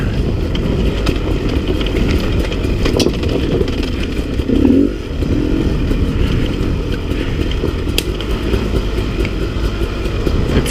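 A Beta 300RR dirt bike engine droning steadily while being ridden, a continuous loud rumble with clatter and a brief surge midway.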